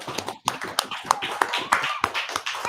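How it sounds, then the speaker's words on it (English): Several people clap for a class, uneven sharp handclaps and taps spaced irregularly, fairly close and moderate in volume, with brief vocal sounds between some claps. "clap it up for the class."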